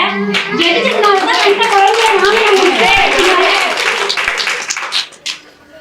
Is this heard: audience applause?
yes